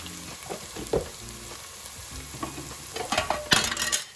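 Spices and ginger garlic paste sizzle and crackle in a hot pan while a utensil scrapes and stirs, close up, with the clatter growing busier toward the end.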